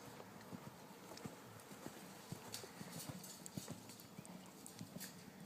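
A horse is ridden at a walk, its hooves clip-clopping in a steady, even rhythm close by, with faint background noise throughout.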